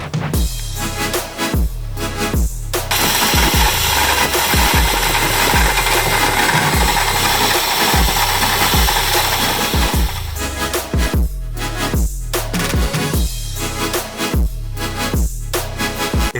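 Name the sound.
metal lathe turning a cone on a revolver drum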